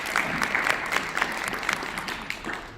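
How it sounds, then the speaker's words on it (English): An audience claps steadily for a few seconds, a dense patter of many hands with no voices standing out. "So I got to give him applause again."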